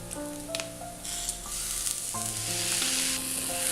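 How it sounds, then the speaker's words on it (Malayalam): Tomatoes sizzle in a pan while being stirred for wheat flour uppuma, a close, continuous frying crackle with scraping strokes of a spoon and faint background tones. "തക്കാളിയും കൂടെ ചേർത്തിട്ടൊന്ന് ഇളക്കി കൊടുക്കാം"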